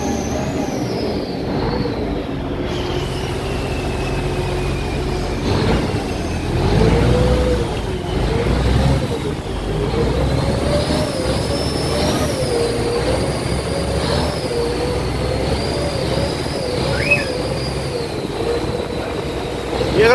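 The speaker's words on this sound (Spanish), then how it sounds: "Espero que se escuche mi voz por el ruido del motor." A boat motor on the Chao Phraya river in Bangkok drones steadily and loudly throughout, a constant mechanical rumble with a faint higher whine riding above it.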